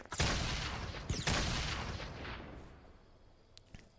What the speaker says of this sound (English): Next, Mark is gonna shoot the grenade launcher.